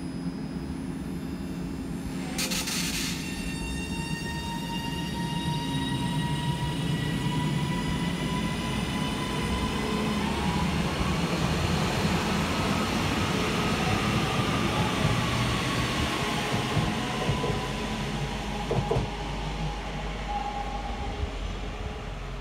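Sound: Class 331 Northern train departing Chelford railway station

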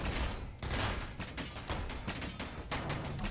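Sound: gunfire from an assault ship in the video game Space Engineers

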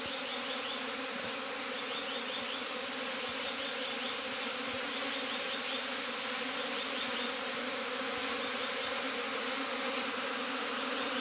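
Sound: honey bee swarm buzzing

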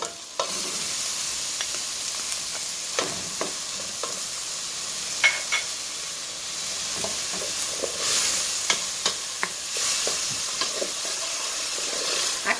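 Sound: sautéing tomato and vegetables in a pan

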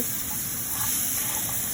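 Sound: crab frying in pan

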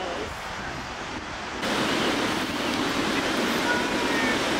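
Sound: Pacific Ocean waves on the shore

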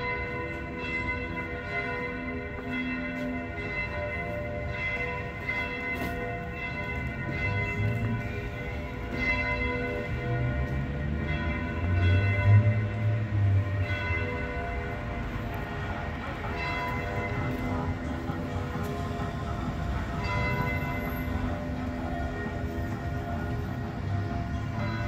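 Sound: church bells ringing in Trieste, Italy

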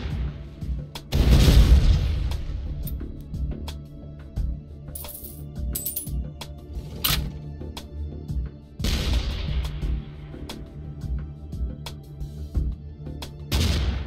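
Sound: nuke explosion in the video game Shellshock Live

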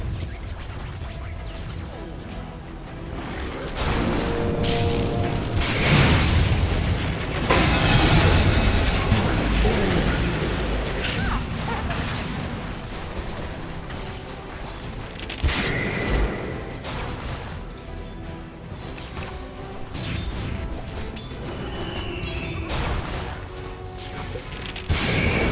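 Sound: tower under attack and falling, Dota 2 video game

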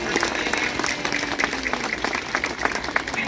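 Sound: audience applause at the aquarium sea lion show

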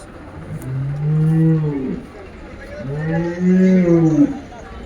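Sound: buffalo mooing at cattle market

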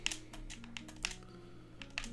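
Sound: typing on a computer keyboard

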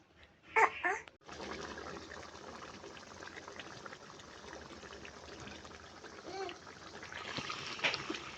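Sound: water poured into pan of boal fish curry

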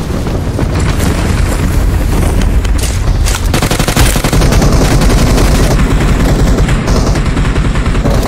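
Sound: gunfire in video game PUBG Mobile

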